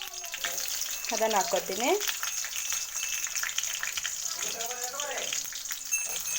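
Finely chopped small onion fries in hot oil in a pan with cinnamon, cloves and a bay leaf, a steady close sizzling hiss running throughout while a person talks over it.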